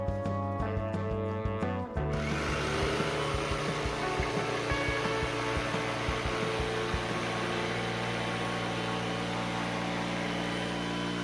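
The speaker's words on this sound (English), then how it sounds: "I used the jigsaw to cut on the layout line on both sides of the block." A jigsaw cuts through an ICF foam block, its steady buzzing drone running continuously and close by after a brief start-up of tonal hum, with no talking.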